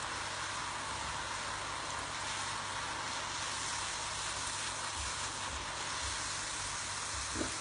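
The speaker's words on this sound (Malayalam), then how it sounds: "ഇനി നമുക്കിത് ഈ ബാറ്ററിൽ മുക്കിയിട്ട് ഫ്രൈ ചെയ്തെടുക്കാം." Achappam batter fries in hot oil with a continuous, even hiss and bubbling sizzle, steady throughout with no speech.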